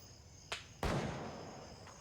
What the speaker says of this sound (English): You hear that sonic crack before the gunshot.